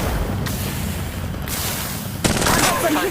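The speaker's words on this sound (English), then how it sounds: "Listen up, I'm getting shot at." Bursts of automatic gunfire and impacts in the Apex Legends mobile game, loud and dense with sharp cracks and rattling volleys, under an in-game voice line.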